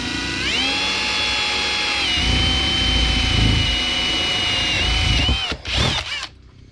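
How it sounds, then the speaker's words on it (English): A power drill with a 5/8 bit bores into the center of a PVC pipe, a steady high motor whine that shifts pitch as the bit bites, then winds down and cuts out near the end. "take a 5/8 drill bit or spade bit, whatever you have, something that is the size of the valve stem that you got, and go ahead and drill it"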